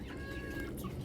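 Chickens perched on a roosting bar give a short, close burst of soft clucking and murmuring, with one brief higher call.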